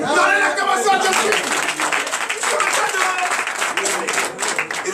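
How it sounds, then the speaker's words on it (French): A church congregation at a night deliverance service applauds loudly and steadily, mixed with cheering and voices. "Donnez l'acclamation à Jésus."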